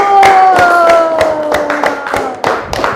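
Classroom applause from students, a burst of several quick, uneven hand claps over a steady tonal background sound, fairly loud and close.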